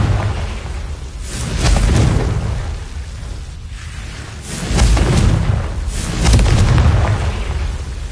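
A Confringo fire spell explodes in Hogwarts Legacy with deep, loud rumbling booms that swell and fade in waves, filling the whole stretch with roaring blasts.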